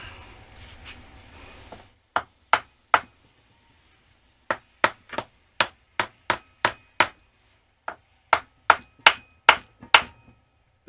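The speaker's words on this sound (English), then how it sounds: "The nice thing about using a wooden mallet is that we're not worried about ruining any kind of threads" A wooden mallet knocks on a 1971 Honda CB350 engine: about twenty sharp, close strikes in irregular bursts, some in quick pairs, with brief silences between them.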